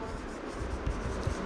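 Steady scratchy scraping of writing on a board during a chemistry lesson, a continuous rubbing texture with faint low thumps, close and moderately loud throughout.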